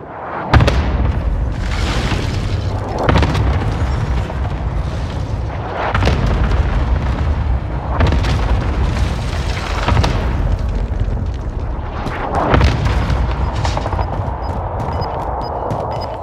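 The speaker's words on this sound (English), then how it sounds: "Cluster strike is active." Cluster airstrike explosions in Call of Duty Vanguard Warzone: a run of loud, heavy booms arriving in waves every couple of seconds, with deep rumbling blasts and crackling debris filling the whole stretch, and no talk.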